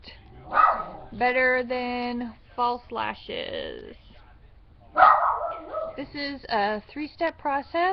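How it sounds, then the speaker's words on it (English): Dogs bark in short bursts in the background of a home while someone talks steadily over them, the yaps mostly buried under her voice. "Sorry about my dogs barking"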